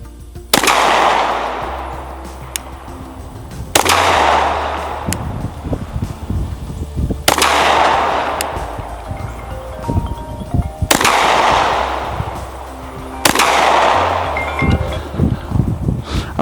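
A SIG P320 MAX pistol fires five slow, evenly spaced shots at a range, each a loud sharp crack with a ringing decay, roughly three seconds apart.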